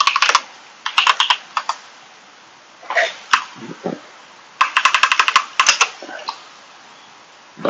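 Someone types a chmod command on a computer keyboard, giving quick close bursts of clicky keystrokes separated by short pauses, plus a couple of heavier key thumps.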